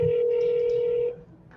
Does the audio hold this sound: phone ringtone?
yes